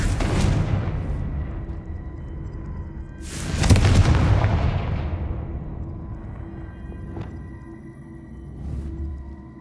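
A Confringo blasting spell detonates in Hogwarts Legacy with a loud, deep booming explosion that rumbles and fades, followed by a smaller second blast and lighter pops, no voices.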